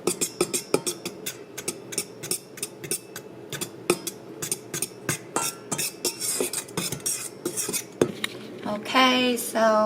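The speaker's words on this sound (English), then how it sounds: "so we're gonna mix that up" A utensil beats flan cake batter in a bowl, producing rapid rhythmic clinking taps against the bowl, close and steady, with a brief voice rising near the end.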